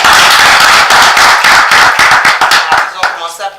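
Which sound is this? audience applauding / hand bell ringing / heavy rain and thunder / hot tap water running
audience applauding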